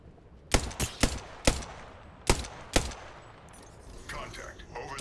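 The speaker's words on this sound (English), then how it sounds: "Getting shot at." Apex Legends gunfire cracks out in about six sharp, loud shots at uneven intervals, followed by quieter clattering game sounds and faint background effects.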